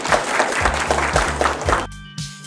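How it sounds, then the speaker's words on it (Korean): Audience applause at a high school debate contest award ceremony, a dense wash of many hands clapping with low tonal hum or music underneath, cutting off abruptly near the end. "큰 박수 부탁드립니다."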